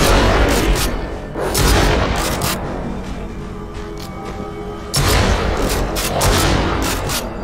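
Heavy booming gunfire fills the horror video game Devil Inside Us: Roots of Evil. Loud, dense blasts come in two bursts separated by a quieter stretch, with sharp cracks over a deep rumble.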